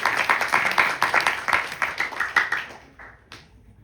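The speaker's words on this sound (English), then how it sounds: "So give all of yourselves a round of applause for being here today." Rapid, dense clapping from a crowd at a Navratri night religious gathering that fades out toward the end, leaving a couple of scattered claps.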